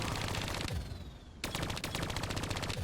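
Machine gun fire in Call of Duty Black Ops 3: rapid sustained bursts of automatic rounds, loud and close, with a short pause before the firing resumes.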